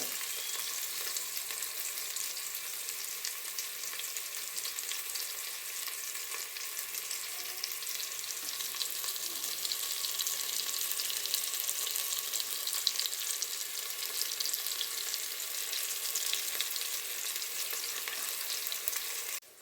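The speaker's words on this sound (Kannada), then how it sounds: "ಸೊ ಟೊಮೆಟೊ ಹಾಕಿ ಸ್ವಲ್ಪ ಹುರ್ಕೊಳ್ಳಿ" Tomatoes fry and are stirred in a pan for chicken biryani, a continuous soft hiss and crackle held at an even level, with no voices.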